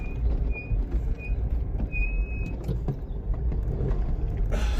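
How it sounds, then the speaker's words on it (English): Train brakes squeal on a rail journey, thin high-pitched squeaks coming in short repeated bursts over the loud, steady rumble of the moving carriage. "Squeaky brakes."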